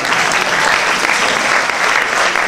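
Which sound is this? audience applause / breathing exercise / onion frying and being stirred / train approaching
audience applause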